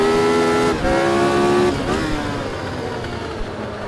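A car engine in a racing video game gives a quick throttle blip during a downshift, its revving tone rising and falling, loud and close with no one talking over it.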